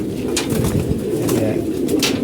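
Pigeons coo steadily in a home loft in Mirpur, a low continuous burble of several birds close by, with occasional sharper flutters and calls over the top.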